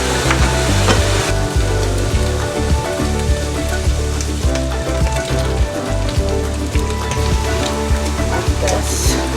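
Italian sugo sauce goes into a pan of just-fried, drained meat, setting off a loud, continuous crackling sizzle with sharp pops and spatters, close up and alone.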